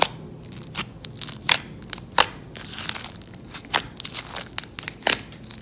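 Glossy slime mixed with floam beads gets squished and stretched up close, giving off bursts of crisp clicks and crackles at an uneven rhythm, with no voices.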